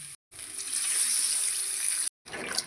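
Warm water is poured into fried spice masala for a fish curry, giving a bright, hissing gush that swells and holds, broken by two abrupt silent gaps.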